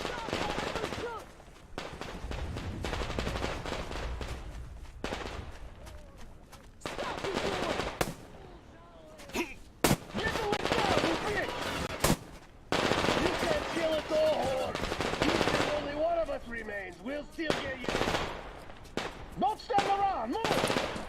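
Bursts of enemy automatic gunfire and single shots in Metro Exodus, irregular and at moderate distance, with someone talking between and over the shooting.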